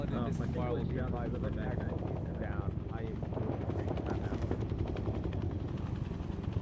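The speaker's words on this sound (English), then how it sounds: "What's that helicopter?" In the ARMA military video game, a helicopter drones loud and steady with a thick low rotor rumble, running continuously while players talk over it.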